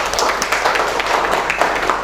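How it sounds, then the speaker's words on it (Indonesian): Classroom applause for a student group, a short burst of clapping from a room of students, loud and close with uneven rhythm. "tepuk tangan buat mereka"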